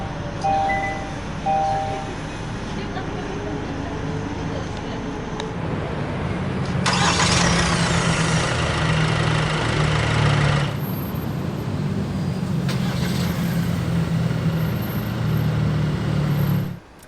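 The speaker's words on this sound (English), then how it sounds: "hit this engine start stop button to fire up the engine" A 2023 Kia Carnival 2.2 CRDi diesel engine cranks via push-button start and catches about halfway through, then settles into a steady, loud idle that continues to the end, with no talking.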